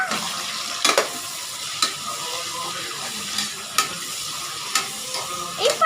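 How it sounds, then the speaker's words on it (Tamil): Onions fry in a pan for chicken biryani while a spoon stirs them, the continuous sizzle broken by sharp scraping clacks roughly every second, close and fairly loud with no talking. "வெங்காயத்தை வதக்கி வதக்கிட்டதுக்கப்புறம் நம்ம பார்த்துடலாம் இப்போ நம்ம நல்லா கிண்டிக்கலாம்"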